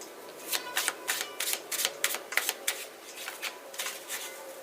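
Tarot cards being shuffled up close: a quick series of crisp riffling bursts in an even rhythm, with no talking.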